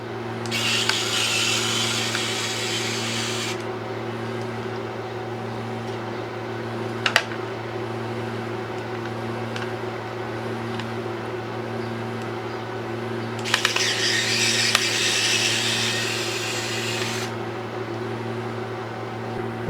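A Kaiweets ES21 mini electric screwdriver backs screws out of a sound card's circuit board, whirring in two bursts of several seconds each with small clicks between, over a steady low background hum.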